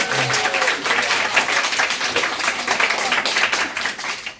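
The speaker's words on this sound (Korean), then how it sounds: "박수 한번 주십시오." An audience at a Korean business growth talk bursts into loud, dense applause, sustained clapping from a close crowd filling the whole few seconds.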